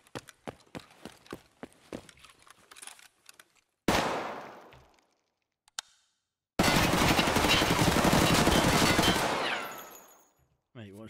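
Weapon fire from a meta gun build in the Escape From Tarkov video game. It starts with a run of distinct single shots, then a sudden loud burst with a decaying tail. After a pause, a long sustained automatic volley runs for several seconds, close and loud.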